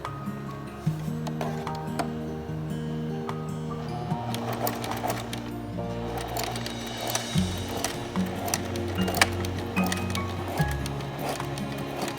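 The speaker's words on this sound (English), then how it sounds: "she's sewn both the front and the lining, double stitched, so it's reinforced." An electric sewing machine stitches a cloth face mask, double-stitching front and lining, running in steady whirring bursts with brief pauses and small clicks between runs.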